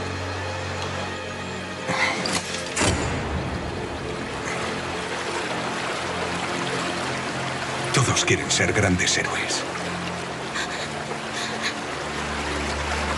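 River water flows steadily beside a kayak, a continuous rushing wash close by, with people talking over it at moments and some splashing bursts.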